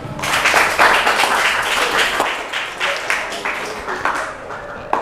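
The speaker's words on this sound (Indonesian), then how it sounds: "Tepuk tangan untuk Risma." A classroom full of people claps steadily for several seconds, a dense, loud burst of applause that tapers slightly toward the end.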